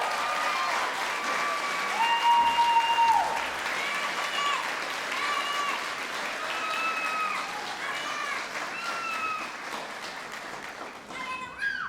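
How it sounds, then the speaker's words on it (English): A concert audience applauds a school symphonic band, a sustained, moderately loud wash of clapping with cheers and voices mixed in throughout. "Let's give them a big round of applause."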